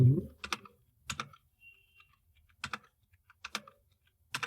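The Enter key on a computer keyboard is struck about five or six times at uneven intervals, each a sharp close click separated by short quiet gaps.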